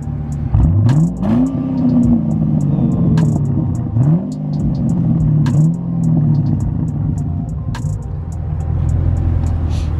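A loud, raw car exhaust with the muffler deleted and an X-pipe revs repeatedly, rising and falling in pitch with a harsh, unmuffled rumble, close by.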